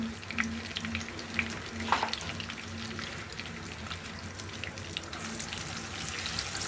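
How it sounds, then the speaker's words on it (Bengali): Chopped onions fry in a generous amount of oil, a faint, steady bed of sizzle with a few soft clinks and stirring scrapes, and no voices. "আমি এখন পেঁয়াজটাকে ভেজে নিব"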